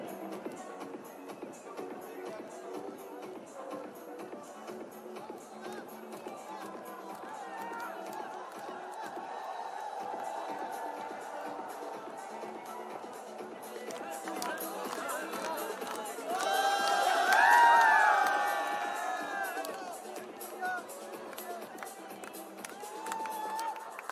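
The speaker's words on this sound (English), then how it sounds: "Crowd pretty excited. Friday crowd" A crowd at a Friday cricket match, India versus New Zealand, keeps up a steady roar of cheering and shouting, swelling to a louder burst of excited yelling near the end.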